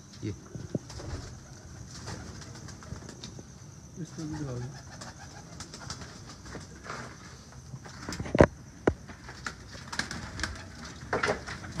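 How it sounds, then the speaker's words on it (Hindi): Soft cooing from Teddy pigeons close by, mixed with rustling, scattered taps and some wing flutter; a voice is heard at times. "टैडी बड़े अच्छे कबूतर रखे हुए इन्होंने"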